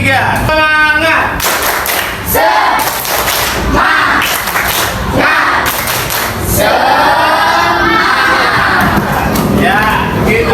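Morning class doing the rhythmic 'tepuk semangat' clap, with bursts of sharp group claps in a patterned rhythm mixed with loud chanting voices, close and energetic.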